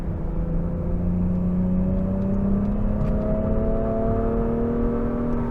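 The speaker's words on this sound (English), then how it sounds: "this 3-cylinder actually sounds quite good" A 2023 Nissan Rogue three-cylinder turbo engine revs up steadily from inside the cabin, its rising drone smooth and continuous with no talking.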